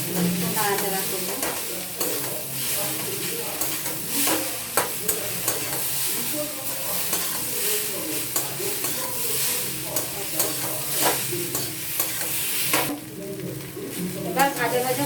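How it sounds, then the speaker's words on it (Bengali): Eggs are stirred and fried in a pan for chowmein, a close crackling sizzle broken by repeated scraping strokes of a spatula, with a voice talking intermittently over the cooking. "একটু নাড়াচাড়া করবো।"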